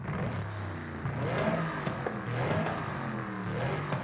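A twin-turbo car engine revs in Forza Horizon 5, a sustained, loud, near engine roar that rises and falls in pitch over several seconds, heard alone without speech.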